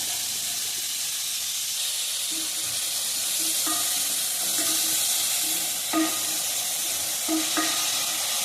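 Onions sautéing with salt in a pan for egg curry, giving a steady hiss and sizzle with occasional spoon scrapes and taps against the pan.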